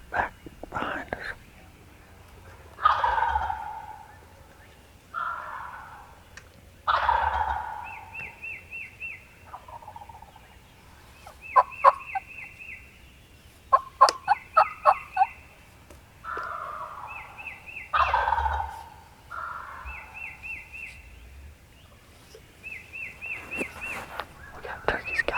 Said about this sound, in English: We got turkeys gobbling all around us.